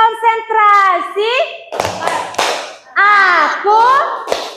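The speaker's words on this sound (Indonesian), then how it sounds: "mari tepuk konsentrasi" First-grade children in an Indonesian classroom play the 'tepuk konsentrasi' clapping game. Sharp bursts of group hand claps alternate with loud, rhythmic chanted lines from the kids.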